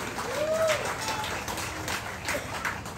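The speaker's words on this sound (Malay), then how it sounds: "Beri tepukan kepada anda sendiri" Applause from a political rally crowd in Guar Chempedak, a dense patter of clapping mixed with cheering voices and whistles, continuous and fairly loud for the whole stretch.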